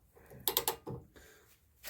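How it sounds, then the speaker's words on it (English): Torque wrench tightening a pitman arm to 185 foot-pounds on a vehicle's steering linkage, giving a few close, sharp ratcheting clicks followed by a softer mechanical knock, with no talking. "we're torquing down the pitman arm to 185 foot-pounds"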